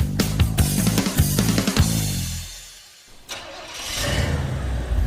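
An old V8 car engine cranks and fires with a burst of loud rumbling, dips briefly, then settles into a loud, rough running idle, close and without talking.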